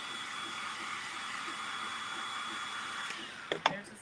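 A hair dryer blows steadily at close range over a papier-mache pumpkin with an even airy whir, then a couple of brief clunks and handling knocks near the end.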